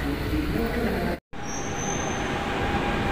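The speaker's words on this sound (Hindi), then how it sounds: "ये जी ट्रेनें आ जा रही हैं" Metro trains run through the underground Châtelet station in Paris, giving a loud, continuous rumble with a high wheel squeal. It drops out for a moment, then the rolling noise resumes.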